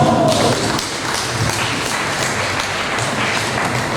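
An audience applauds a diploma recipient at a ceremony, a dense wash of clapping that stays loud and even across the whole stretch.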